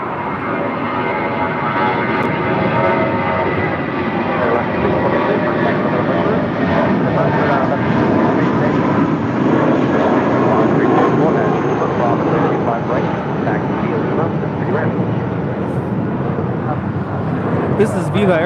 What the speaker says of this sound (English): This is Viva Aerobus 623 departing to Monterrey, Mexico on an A320.